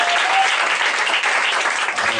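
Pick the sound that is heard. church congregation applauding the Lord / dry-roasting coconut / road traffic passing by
church congregation applauding the Lord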